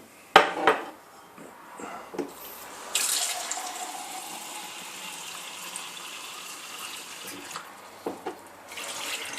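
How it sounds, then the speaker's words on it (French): Water splashes and trickles into a metal pot for an alcohol camping stove test, with light clinks of metal and scattered knocks around it, fairly quiet and close. "Alors je vais remettre un petit peu d'eau."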